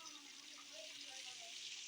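Water gushes steadily into a bowl of flour and sugar batter for sweet malpua, a continuous splashing pour at close range that runs quietly through the whole moment.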